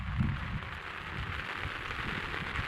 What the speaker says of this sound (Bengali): প্রচুর বৃষ্টি হচ্ছে আমাদের এইখানে